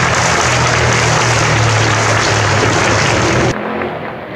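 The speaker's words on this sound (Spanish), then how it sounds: "pueden aplaudir" Dense, steady applause fills a hall at a teachers' excellence awards ceremony, loud and continuous for about three and a half seconds before cutting down to a quieter room murmur.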